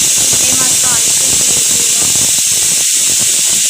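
A pressure cooker vents steam in a home kitchen during kacchi biryani cooking, giving a loud continuous hiss close by with a brief squealing whistle tone near the start.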